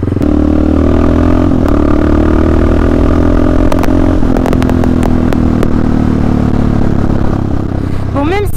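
Loud, throaty roar of a motorcycle's exhaust pipes, captured close up through a GoPro, holding a steady drone with scattered clatter and rattling throughout.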